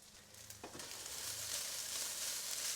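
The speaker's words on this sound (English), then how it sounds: "Stir fry it all up." Food is stir-fried in a pan with teriyaki sauce; a soft hiss rises into a steady, fairly faint sizzle after a brief quiet start, with a low hum beneath.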